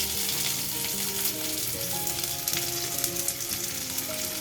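Chopped onions sizzle in hot oil in a pan on a home stove, a steady, close, crackling fry that continues without pause under soft background music.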